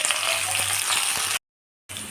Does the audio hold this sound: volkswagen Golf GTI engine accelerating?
no